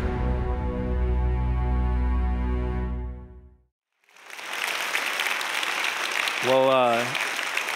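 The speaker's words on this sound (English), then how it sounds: "I don't want you to clap too much" A church congregation breaks into applause after a sustained musical tone fades to silence, the clapping dense and broad from the crowd, with a voice speaking briefly over it near the end.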